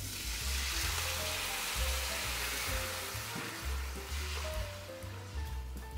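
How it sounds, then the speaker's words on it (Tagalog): Water is poured into a hot pan of sautéed aromatics for misua soup, setting off a loud, continuous broadband sizzle and rushing hiss that fills the whole stretch, with low tonal hum underneath. "And then let's put some water."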